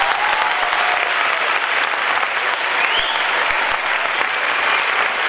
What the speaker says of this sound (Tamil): உங்க கரகோஷம் தான் அதற்கு சம்மதமாக இருக்கும்